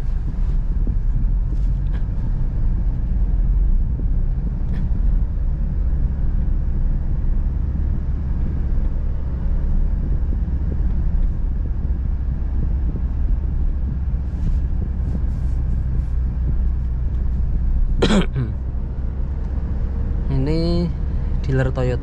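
Cabin drone of a Honda Brio driving in second gear, a steady low engine and road rumble throughout, with brief clicks and a faint squeak-like chirp near the end.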